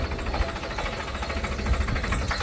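A tractor engine, freshly fitted with a GPS unit on a farm, idles with a steady, dense rumble and a faint rhythmic knock running through the whole stretch at close range.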